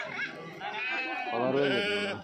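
Sheep and lambs bleat repeatedly in quavering, wavering calls, close and fairly loud, with a busy background of other animals, at a livestock market in Kadiri.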